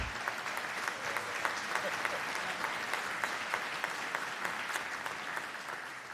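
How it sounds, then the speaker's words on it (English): Steady applause at an annual town meeting, a room of people clapping densely at an even level that fades slightly near the end. "please give them a round of applause"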